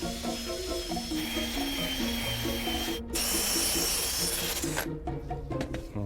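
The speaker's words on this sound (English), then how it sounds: "So now we'll shape this with the sander." A power sander grinds steadily against a piece of pine being shaped into a horn in a workshop, a continuous whirring drone with a brief pause partway through and shifting pitch as the wood is worked.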